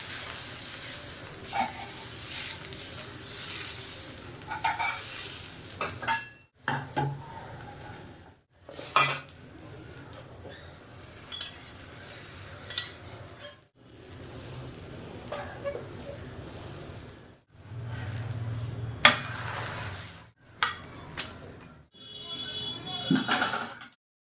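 Kitchen sounds while making egg dosa: metal pans, utensils and cutlery clattering and scraping in separate bursts, with occasional sizzling and pauses between actions.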